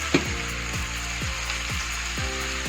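Pointed gourd tossed into a pan with turmeric and salt sizzles steadily and closely, with a few soft stirring scrapes repeating about every half second; no one speaks.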